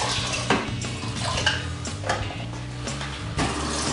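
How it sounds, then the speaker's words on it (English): A hydrometer rinsed in sterilant during home winemaking, giving watery splashing with glassy clinks and knocks against a container, several sharp taps spread through steady running-water noise, close by. "Give it a quick rinse."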